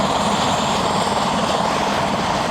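A helicopter passes over the Le Mans race circuit during the 24 Hours endurance race, its steady rotor and engine roar loud and continuous throughout with no talking.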